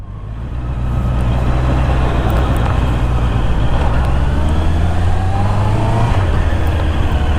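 Honda CBR 650R four-cylinder motorcycle with its stock exhaust, a loud steady low engine drone while riding that builds in the first second and holds, with a slight pitch rise late on.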